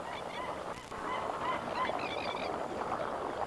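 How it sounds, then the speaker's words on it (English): Large flock of geese-like birds honking, a dense chorus of overlapping calls at moderate distance in an isolated New Guinea wetland, continuous with no talk. "birds congregate here in enormous numbers"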